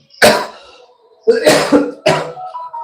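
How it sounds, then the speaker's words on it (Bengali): Three harsh, close coughs from an adult man who is ill, each a sharp burst with a rasping tail, separated by brief quiet pauses. "কথা বলতে গেলেই কাশি হচ্ছে"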